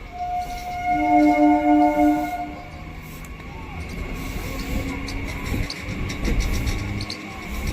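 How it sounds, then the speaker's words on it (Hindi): Etawah–Mathura MEMU electric multiple-unit train pulling out of Raja Ki Mandi station, with a loud sustained two-tone horn near the start, then steady rumbling wheel and rail noise as it gathers speed. "राजा मंडी से भी अपनी ट्रेन का डिपार्चर हो गया है।"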